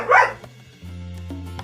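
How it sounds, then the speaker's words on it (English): A dog gives one loud close bark, followed by a couple of softer yips and whimpers in a quiet indoor room. "Okay, that was my dog."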